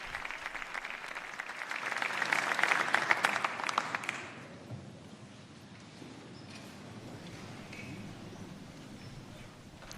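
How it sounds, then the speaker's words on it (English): Sustained applause from dignitaries and civil authorities in a Spanish hall greets Pope Leo XIV's address, loud and dense for about four seconds, then fading to a softer, steady patter that lingers through the rest. "And we hear the sustained applause for Pope Leo's address to the civil authorities of Spain."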